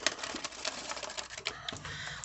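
A deck of tarot cards being shuffled during a reading, giving a steady run of quick papery riffling and clicking strokes close to the microphone, with no talking.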